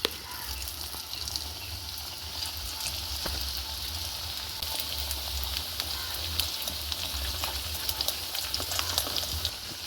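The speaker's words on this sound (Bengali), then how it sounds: "এবার তেলে ছেড়ে দিলাম" Hing kochuri stuffed with chana dal sizzles in hot oil, a steady dense crackle and hiss that holds evenly and close throughout with no talking.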